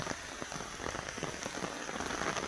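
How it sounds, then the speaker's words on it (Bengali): Rain falls steadily on surfaces as a downpour grows heavier, a dense, even patter of drops that stays fairly quiet and unbroken throughout, with no talking. "বৃষ্টিও বাড়ছে।"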